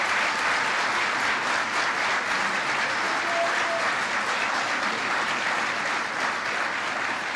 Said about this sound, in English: Give them a round of applause, would you please?